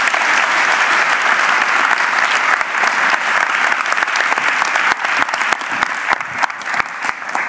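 Sustained audience applause, a thick wash of many hands clapping at a constant loud level with scattered sharper claps standing out.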